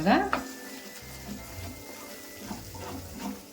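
Masala for a restaurant-style paneer curry is stirred in a pan once the oil has separated. A brief scraping clatter at the start gives way to a steady, close sizzle with faint utensil knocks.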